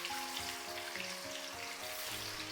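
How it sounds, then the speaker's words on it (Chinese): Tofu pieces deep-frying in oil heated to medium temperature give a dense, steady sizzle with fine crackling, close and continuous, with no talking. "炸至表皮金黄"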